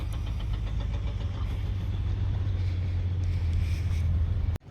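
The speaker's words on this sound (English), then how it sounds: "Car is moving." Mahindra BE 6 electric car moving off after auto park, a steady low rumble and hum of rolling motion held through the whole stretch and ending abruptly.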